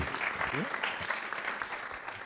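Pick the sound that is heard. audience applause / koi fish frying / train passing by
audience applause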